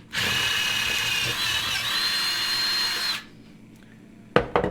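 A power drill bites into a phone camera jig with a steady high whine for about three seconds, close and loud, then stops, followed by a few sharp clunks as the bit grabs.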